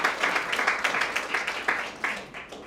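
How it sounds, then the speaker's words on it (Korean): Audience at a Korean association's annual general meeting applauding, a dense burst of many hands clapping at a steady rhythm that gradually thins and fades toward the end. "큰 박수 한번 부탁드리겠습니다"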